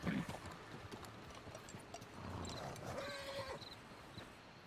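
Hooves of a horse in Red Dead Redemption 2 clip-clop steadily close by, with a faint whinny-like tone and game ambience beneath.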